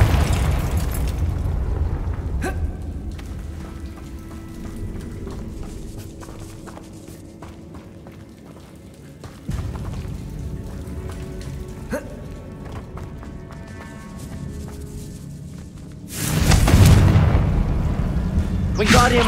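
A Confringo blasting spell explodes in the video game Hogwarts Legacy: a loud, sudden boom bursts out near the end over steady background game sound, with softer footsteps and thuds earlier.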